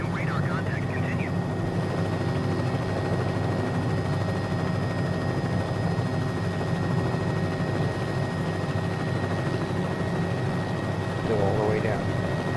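A helicopter descends on approach near Key West, Florida, its engine and rotor making a steady, continuous drone, with radio and crew voices talking over it.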